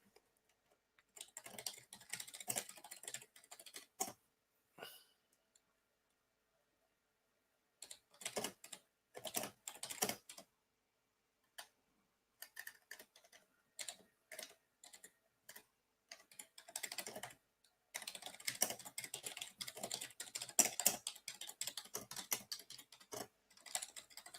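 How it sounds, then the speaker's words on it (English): Computer keyboard typing in bursts of rapid clicking keystrokes, with short pauses between runs and a long busy stretch toward the end, close and fairly quiet with no talking. "I know this isn't actually any fun while I'm just typing and not saying anything, is it?"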